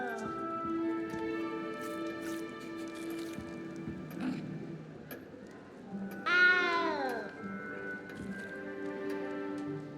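A frightened cat in the video game Hogwarts Legacy gives several meows over a backdrop of sustained tonal game music, with one louder, rising cry standing out partway through.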